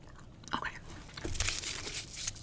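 Gum being chewed close up in a quiet room, soft wet crunches and bites coming irregularly over about two seconds, with faint whispery noise underneath and no clear talk.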